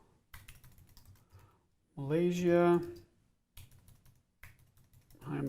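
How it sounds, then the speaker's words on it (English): Someone types on a computer keyboard, producing soft, irregular clusters of key clicks around a burst of speech, with talk continuing near the end. "I'm not typing very well today"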